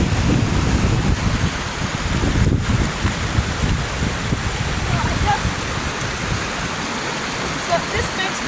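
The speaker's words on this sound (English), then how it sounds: "it's something good for them to just see the water running, flowing" Outdoor running water rushing steadily like a stream or small waterfall, a dense continuous wash with some wind buffeting on the microphone, no talk.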